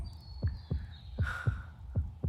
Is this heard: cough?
no